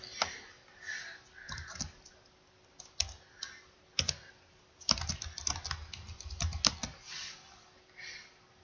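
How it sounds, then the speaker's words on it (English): Fingers type on a computer keyboard in quiet, irregular bursts of soft key clicks, close by, with no speech. "You can type in the speech bubble"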